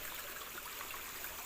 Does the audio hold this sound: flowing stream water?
yes